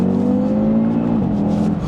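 An Audi TT RS with quattro all-wheel drive accelerates hard in third gear on greasy roads, its engine note a loud, steady, throaty drone heard from inside the car with no talk over it.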